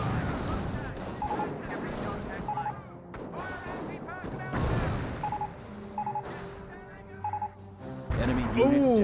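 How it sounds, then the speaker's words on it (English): A mortar shell strikes a sniper in Company of Heroes, one of several sharp explosive blasts amid game gunfire and radio chatter, heard under a caster's excited commentary. "the mortar gets a direct hit there on the sniper"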